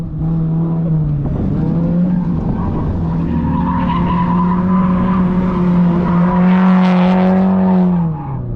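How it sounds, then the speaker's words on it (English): Drift cars sliding sideways at Thunderhill, a loud sustained tire screech with engine roar running almost unbroken for the whole stretch and tailing off near the end. "los carros están haciendo drifting"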